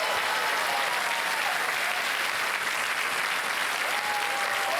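Sustained, dense applause from a studio audience on the Hindi quiz show Kaun Banega Crorepati, loud and steady throughout without a break, celebrating a contestant's win.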